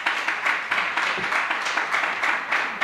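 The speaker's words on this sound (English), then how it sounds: "Keep on clapping." Steady applause from an audience fills the whole stretch, dense clapping with slight surges, no voices over it.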